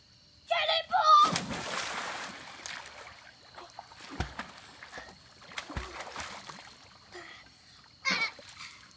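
A child's cannonball jump into a freezing outdoor pool, with a sharp loud splash early on, then water sloshing and dripping, and another splash burst near the end.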